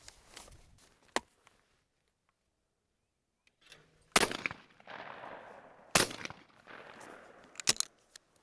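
Side-by-side shotgun shots fired at clay targets: a few sharp, loud blasts spaced out over several seconds, each followed by a short ringing decay outdoors, with quiet gaps between them.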